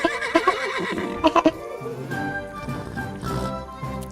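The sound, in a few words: horse neigh made by a giraffe in the SpongeBob Cosmic Shake video game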